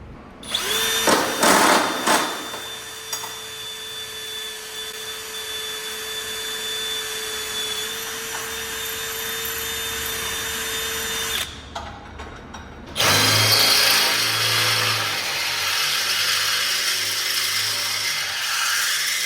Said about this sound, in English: just drill out these holes for plug welds